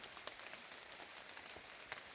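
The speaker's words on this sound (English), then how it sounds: "so I'm getting covered in rain here" Steady rain falls in a forest in northern Maine, a continuous broadband patter of drops on leaves and ground with a couple of sharper nearby drop hits, no talking.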